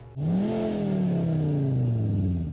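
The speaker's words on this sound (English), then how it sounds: "it actually has a speaker which plays a V8 petrol noise from the rear of the car" A speaker in the rear of a Skoda Kodiaq vRS plays a synthetic V8 petrol engine note, a loud, smooth rev that rises quickly and then slowly falls away as a single sustained sweep.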